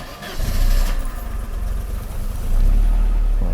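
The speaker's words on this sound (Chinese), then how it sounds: "我们现在来做一个热车启动好，大哥打开电门，好，启动。" A warm car engine cranks and catches twice, each start a deep rumbling surge that settles into a steady idle; the idle motor is sticking and needs replacing. The sound is close and loud.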